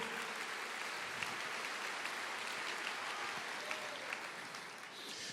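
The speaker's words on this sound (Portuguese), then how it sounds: "Aplauda ao Senhor." A church congregation applauds in sustained, even clapping that fills the hall without a break.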